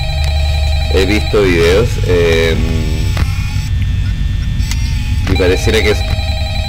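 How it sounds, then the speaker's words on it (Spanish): Telephone in the horror game Five Nights at Freddy's ringing in repeated electronic bursts over a steady hum, with someone speaking Spanish in between the rings. "Hay un teléfono sonando, pero no sé cómo agarrarlo"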